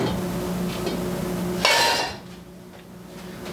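A metal pot is lifted off a stove while cooking spaghetti and meatballs, giving a single sharp clank of metal against the burner after a steady low simmering hum, followed by quieter room tone.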